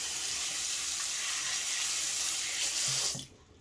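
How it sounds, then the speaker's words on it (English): A tap runs in a steady, loud hiss as a shell is rinsed under it, then the flow stops abruptly near the end; no talk. "Then you're going to want to rinse it."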